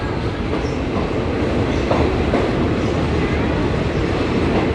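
Steady loud rumble of a train running through Bang Sue Junction railway station in Bangkok, continuous rolling noise with faint clatter from the tracks.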